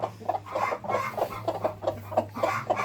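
A hen clucks in a chicken coop, a series of short rhythmic clucks at moderate distance over a low steady hum, with no talking.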